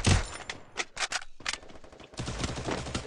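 Rapid bursts of gunfire in the mobile game Free Fire, clattering shots in quick clusters with brief gaps, fairly close and moderately loud.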